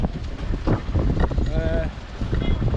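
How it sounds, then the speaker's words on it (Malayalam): Strong wind buffets the microphone at the Uthralikavu Pooram festival grounds, a continuous loud rumbling gust with faint crowd sounds and a brief tone in the background. "ഭയങ്കര കാറ്റാണ് ഉത്രാലക്കാട് കാറ്റ് ഭയങ്കര രീതിയിലാണ്"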